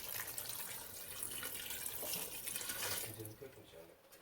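Plain tap water is poured into a cooking pot, making a steady splashing liquid stream that runs loud and close for a few seconds before tapering off.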